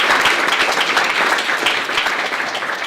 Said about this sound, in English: So give a massive round of applause again for them